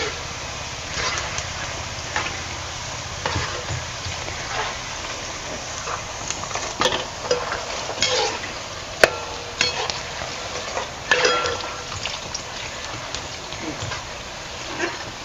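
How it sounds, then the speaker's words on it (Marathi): Panipuri puris deep-frying in hot oil make a steady, moderately loud bubbling sizzle with scattered sharp crackles and pops throughout. "आता आपण एवढ्या अगोदर तळून घेऊया"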